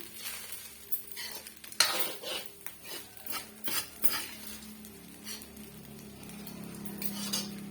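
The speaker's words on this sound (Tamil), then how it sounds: "இப்போ மீடியமான ஃப்ளேமில் வச்சு நல்லா வந்து கிண்டி கொடுத்துக்குங்க" Coconut rice being stirred in a pan over a medium flame, soft scraping and clinking of a utensil against the pan in irregular strokes over a faint low sizzle, fairly quiet with no talking.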